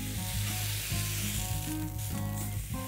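Steak sizzling loudly and steadily on a hot grill plate just after being flipped, cooked rare for a burger, with a continuous crackling hiss and faint rhythmic ticks of spitting fat.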